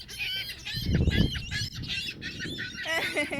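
Pigeons and other birds flocking near water as a small child feeds them, with squawking, honk-like calls and fluttering, a loud burst of bird noise near the start, small voices scattered through.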